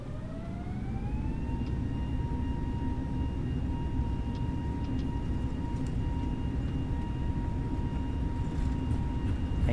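Airbus A320neo jet engines spool up to takeoff thrust in a flight simulator, a steady loud roar with rising whine tones that climb and then hold level throughout, no talking.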